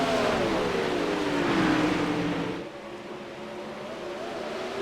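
Race cars battling on a short track during a heat race in the Rivalz Elite Pro series at Charlotte, engines roaring loudly as a pack sweeps past, the pitch sliding down and the sound easing off as the cars pull away.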